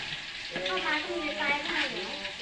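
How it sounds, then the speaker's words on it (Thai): Pork belly frying in a pan over low heat, with steady close sizzling and crackling throughout and some stirring, loud and continuous with no talk. "นี่คือวิธีการทอดหมูสามสั้นครับให้กรอบๆต้องมีแมงเม่าด้วย"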